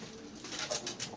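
Broad-tailed Baku pigeons give soft, faint coos in short repeated pulses over a quiet background.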